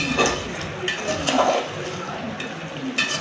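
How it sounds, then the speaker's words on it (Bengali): Goat head curry being stirred in a cooking pot at a village cookout, with a few scraping clinks of the spoon against the pot over a soft bubbling simmer. "একটু নেড়ে চেড়ে নিয়ে"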